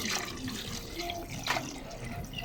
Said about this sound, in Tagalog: At lagyan na lang natin ng tubig.